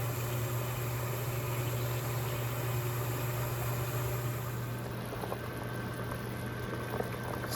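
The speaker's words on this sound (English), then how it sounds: "So this is what the green bananas look like as they're boiling." A pot of water with green bananas boils steadily with a low rumbling bubble and hiss, continuous and close, plus a faint steady hum beneath.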